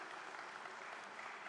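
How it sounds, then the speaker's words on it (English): Steady, dense applause from a large audience at a Rotary International Presidential Conference in Hyderabad, filling the whole moment evenly without pause. "Please give them a big round of applause"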